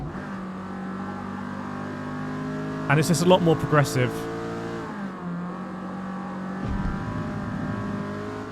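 A race car engine drones steadily on the Lime Rock Park circuit in the video game Forza Motorsport, with a brief burst of sharp revving and squeals midway, under someone talking.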